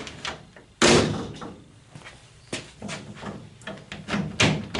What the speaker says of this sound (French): Premier cran, deuxième cran, la porte est fermée.